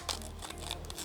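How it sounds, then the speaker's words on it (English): Scissors snip and crinkle through the plastic packaging of an HP USB 3.1 x302M OTG flash drive in a short burst of close, crisp cutting and rustling. "All right, cut it open."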